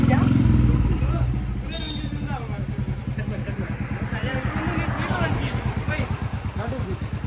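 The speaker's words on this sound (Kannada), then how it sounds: "ಈ ಗಾಡಿ ಬಿಡು, ಬೈಕ್ ಬಿಡು." A motorcycle carrying riders on a journey with friends to Gadaikallu hums along with a steady, throbbing low engine note that pulses through the whole ride, while voices chatter over it.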